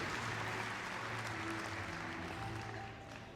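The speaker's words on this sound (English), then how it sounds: "Let's give a big round of applause." A crowd at a Crufts dog show presentation claps in sustained, dense applause for a therapy dog and its owner, steady then tapering slightly toward the end.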